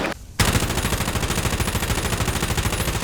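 Rapid automatic gunfire from a gun in a video game, a loud steady burst of fast rhythmic shots following a brief quiet gap at the start.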